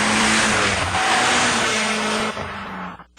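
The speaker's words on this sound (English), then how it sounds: "BF Goodrich, the first street tire to pull a 1G turn." Car on BF Goodrich street tires cornering hard, a loud continuous engine roar with tire squeal and skidding noise that holds steady, then dips and fades near the end.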